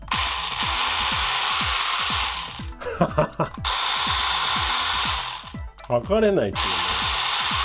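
A Mini 4WD motor whirs loudly inside a Marushin Magnum Shooter toy BB gun assembly kit. The steady high-pitched whine cuts out twice, and a voice speaks during each pause.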